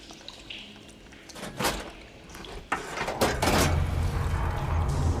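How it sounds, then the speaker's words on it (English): Mechanical clanks and a metallic thud as water flow is switched in Horizon Forbidden West, followed by water starting to rush and pour steadily, loud and close, with no talking. "Sounds like the water's switched."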